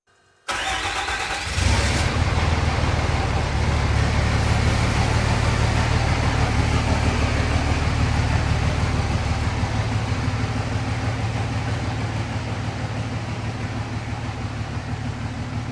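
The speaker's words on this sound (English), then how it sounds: "I'm going to fire the truck up, back it out on the driveway here, let it get up to temp" A Cummins diesel truck engine, fitted with upgraded exhaust manifold studs, cranks and fires on a driveway, then settles into a steady, loud, close diesel idle with a deep rumble and no talking.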